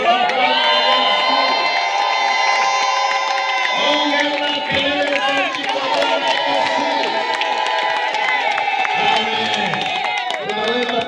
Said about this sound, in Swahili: Kelele za shangwe